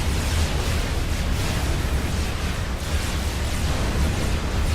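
Artillery fire in the real-time strategy game Supreme Commander: Forged Alliance, a dense, continuous rumble of overlapping booms and blasts at constant loudness with no distinct gaps, heard alone without voices.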